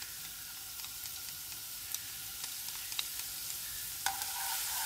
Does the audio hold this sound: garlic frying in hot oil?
yes